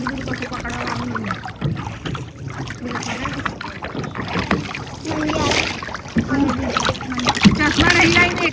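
A boat carries people across Madan Lake toward a hill, with water lapping and splashing against the hull and gusts of wind hitting the microphone, close and continuous, while people chat loudly over it throughout.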